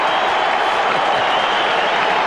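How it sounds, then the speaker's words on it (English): A Richmond football crowd roars and applauds a goal at a 1991 North Melbourne versus Richmond match, a dense, loud, sustained wash of cheering and clapping. "the Richmond crowd have come alive"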